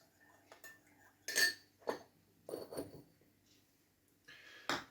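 A teaspoon clinks and scrapes inside a cup while sugar is stirred into coffee, giving several short bright metallic taps spaced over a few seconds in a quiet room, near and fairly soft.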